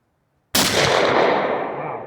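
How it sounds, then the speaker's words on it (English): A single loud, close slug blast from an Ermox X-Pro T shotgun, with a sharp onset that decays into a long, rolling echo. "So let's shoot these slugs and loosen her up a bit."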